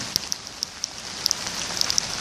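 Rain falls at night, a soft steady hiss with scattered sharp droplet taps landing close by at irregular moments.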